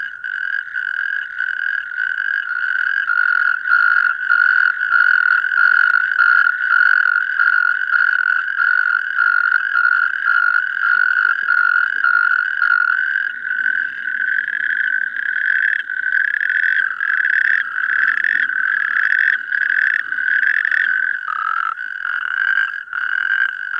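Colony of male frogs or toads croaking through the night in a breeding chorus, a loud, dense train of rapid rhythmic calls that carries on unbroken, alone with no voices.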